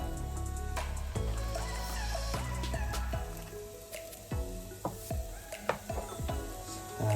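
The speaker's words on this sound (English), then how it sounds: "Fry for 2 minutes. Everything is fried now." Chopped onion, thinly sliced, with spring onion, red pepper and garlic frying for a quarter pounder burger, giving a constant sizzle under intermittent clinks and scrapes of a utensil in the pan.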